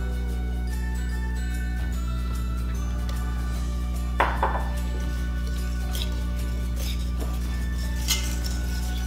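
A spoon stirs pumpkin pie filling in a bowl, with a couple of sharp clinks against the bowl's side over a steady background hum.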